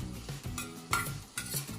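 Washed, chopped bathua greens go into a pan of cooked potatoes: a brief clatter of a utensil against the pan, a soft stirring rustle and a faint sizzle, close up with no talking.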